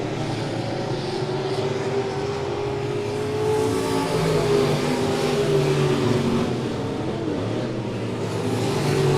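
Race cars lapping Monett Motor Speedway make a steady roar, engines swelling and fading as the pack circles the track, loud and continuous, heard at a distance with no talk.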